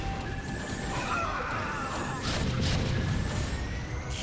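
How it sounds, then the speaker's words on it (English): Carriers explode in the StarCraft: Brood War Remastered video game, heard as a dense, continuous roar of crashing blasts and battle noise over several seconds, with sharper bursts rising midway. "Carriers are exploding."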